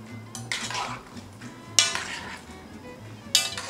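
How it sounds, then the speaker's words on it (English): A utensil stirs simmering rice in a pot, with soft scraping and a couple of sharp metallic clinks over a low, steady background hum, fairly close and moderate in volume. "So I'm going to stir this a wee bit."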